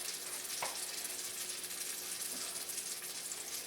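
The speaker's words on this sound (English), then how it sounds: "just blistering, sizzling." Cherry tomatoes blister in hot olive oil in a pan, a steady, quiet crackling sizzle with faint pops, continuous and fairly close.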